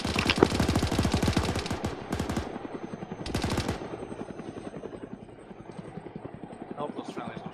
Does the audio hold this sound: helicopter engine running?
yes